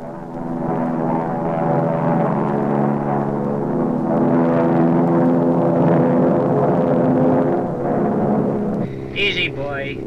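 A Cessna T-41 trainer airplane's engine drones steadily in flight, a thick, rumbling tone with a slight swell in the middle, with a short burst of speech at the end.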